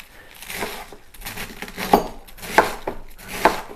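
A knife slices the core out of a small head of cabbage for homemade sauerkraut, giving crisp crunching cuts and scraping strokes, with several sharp crunches close by toward the end.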